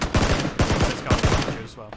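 Rapid bursts of video game gunfire crack out in close, loud volleys, several shots in quick succession with short gaps between clusters.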